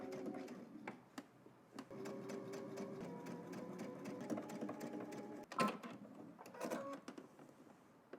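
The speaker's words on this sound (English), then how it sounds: "let's head to the machine, and we're just basically going to stitch right in the middle of that seam" A domestic sewing machine runs in steady bursts while stitching in the ditch along a garment seam, its whirring motor and rapid needle rattle broken by brief pauses and a few louder clicks and clacks.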